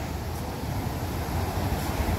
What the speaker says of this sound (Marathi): काय मस्त वाटतं बघा ना समुद्र.